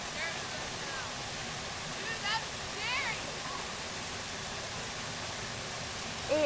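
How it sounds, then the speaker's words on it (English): A waterfall on a nature walk gives off a steady, faint wash of falling water, with soft voices briefly audible in the background. "It is a waterfall and it is beautiful."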